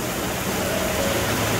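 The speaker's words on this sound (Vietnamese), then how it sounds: "Trời bữa nay mưa rất là lớn luôn" A downpour hisses and roars without a break. The wash of heavy rain is loud and even from start to finish, with no voices heard.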